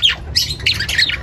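Crimino and Lutino parakeets in a mini aviary let out a quick run of loud, shrill squawks, about four sharp calls close by with a faint background hum.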